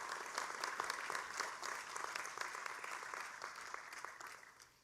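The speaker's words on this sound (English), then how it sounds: "Students, please join me in a round of applause for your parents, your family, your supporters who made today possible" A large commencement crowd applauds parents and supporters at a college graduation, dense continuous clapping heard from a distance that tapers off toward the end.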